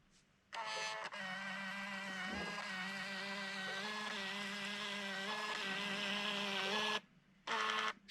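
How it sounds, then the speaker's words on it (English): A Fomamo Bluetooth label printer prints labels with a steady, close mechanical whir lasting several seconds, briefly stopping and then starting again at the end. "I'm simply going to print my labels from this"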